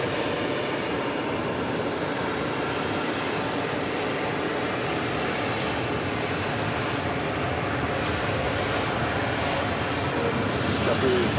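A jet airliner bound for Reykjavik, Iceland, rolls down runway 22 Right at JFK Airport in New York, giving a continuous, heavy engine roar that stays loud and even throughout.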